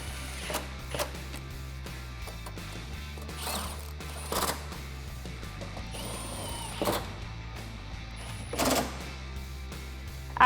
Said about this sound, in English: Then we can tighten them down with that 10mm socket.